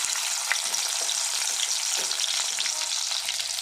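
Onion dropped into hot oil fries with a loud, bright, continuous crackling sizzle, close up and steady throughout, with faint stirring scrapes beneath.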